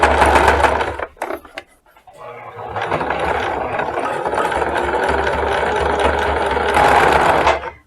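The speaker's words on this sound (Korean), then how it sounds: "역시 박음질할 때는 이어놓은 선부터 이렇게 넣고 박음질합니다" A sewing machine stitches seams on a handmade hat, running in steady bursts with a brief pause near the start before a long continuous run, close and fairly loud.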